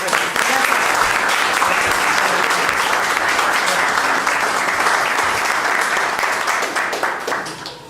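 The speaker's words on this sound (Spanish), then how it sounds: "Pues un aplauso ahorita a Memo, por favor." Audience at a CEMAC conference applauding, a dense sustained round of clapping from a crowd that fades slightly toward the end, loud and close.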